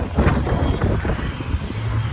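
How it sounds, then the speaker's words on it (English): Strong windstorm wind in Nassau roars and buffets the microphone continuously, loud and gusty throughout. "It is very, very windy."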